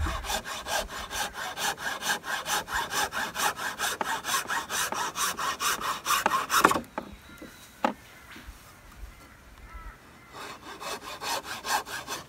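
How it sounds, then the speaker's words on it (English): A hand saw cuts a taper into wooden sticks outdoors for a rabbit trap, with rapid rhythmic back-and-forth strokes for several seconds, a brief pause with a few knocks, then the sawing resumes. "we just want to cut a little taper into these sticks"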